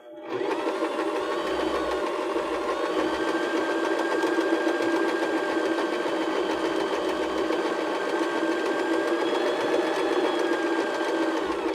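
A sewing machine stitches backwards through fabric for a cork-embellished pillow, a steady, close mechanical whirring hum that starts abruptly and runs continuously.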